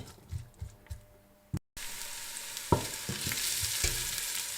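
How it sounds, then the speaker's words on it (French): Chopped onions sautéing in a pan for smoked salmon tagliatelle, a steady close sizzle with a few stirring scrapes, after some knocks and a brief cut at the start. "Je laisse un peu rissoler et puis après je vais rajouter de l'ail."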